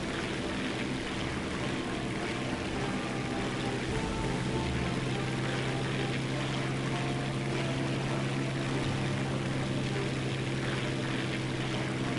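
A propeller aircraft engine in War Thunder holds a loud, steady roar after the throttle is pushed up, a continuous drone with no speech.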